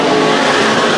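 Race cars roaring through a turn at Chowchilla Speedway during a heat race, a loud, steady engine drone held close with no break.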